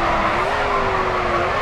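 A car in the racing game GRID 2 drifting through a corner, its tires squealing in a long, steady, loud skid over the engine noise.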